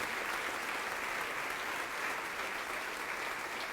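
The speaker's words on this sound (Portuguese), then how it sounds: "vamos aplaudir mais ao Senhor Jesus" Steady, dense applause from a church congregation, sustained at an even level throughout with no voices standing out.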